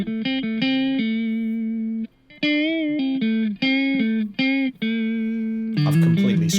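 Electric guitar played through a Boss overdrive plugin, sustained distorted notes and short phrases with steady harmonics, loud and close, ending in a brief grittier strummed burst.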